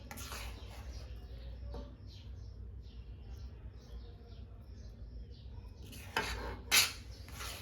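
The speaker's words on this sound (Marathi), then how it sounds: "छान असा हा शिरा प्लेटमध्ये सर्व करून घ्यायचा." A utensil scrapes and taps against a plate as sheera is served, with soft intermittent clinks and one sharper clatter near the end, quiet and close.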